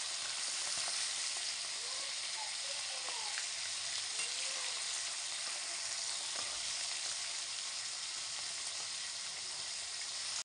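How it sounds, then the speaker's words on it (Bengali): Fish frying in hot oil, Bengali style, gives a steady, close, bright sizzle that crackles on without pause, with no talking over it. "তো আমি অল্প অল্প করে ভেজে নেব।"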